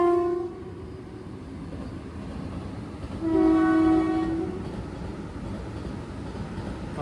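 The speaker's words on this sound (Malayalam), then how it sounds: "തിരുവനന്തപുരം കാസർഗോഡ് വന്ദേ ഭാരത്." The Thiruvananthapuram–Kasaragod Vande Bharat express passes nearby, sounding two loud horn blasts over a steady rumble of the moving train.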